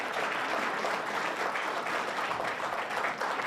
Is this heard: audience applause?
yes